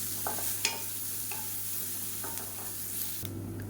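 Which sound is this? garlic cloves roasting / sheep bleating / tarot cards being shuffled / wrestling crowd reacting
garlic cloves roasting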